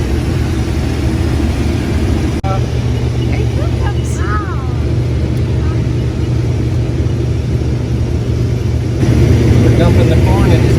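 A red tractor's engine runs steadily and loud while grain corn is dumped into a green cart, a constant low drone with a brief whine partway through and a rise in level near the end.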